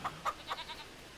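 Goats in the Farming Simulator 25 video game give a few faint, short bleats in quick succession, quiet and distant against a soft background.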